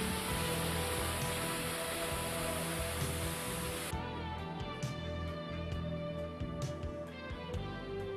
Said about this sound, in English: The automatic nozzle is actuated and extinguishes the fire quickly, preventing it spread to other regions of the corridor or cabins